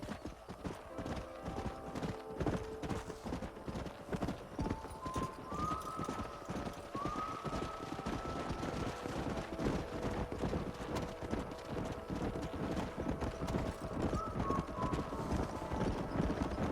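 Horse hooves clip-clop steadily in Red Dead Redemption on Xbox 360, a continuous rhythmic trot heard up close, with a few drawn-out whinnies rising over the hoofbeats.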